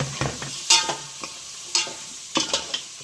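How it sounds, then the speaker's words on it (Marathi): Prawns and cut potatoes sizzling in a pan while being stirred, with a steady frying hiss broken by several sharp scraping strokes of the spoon, close and loud. "पहिले कोलव्या टाकून घेऊया आणि बटाटा कटिंग केलेला"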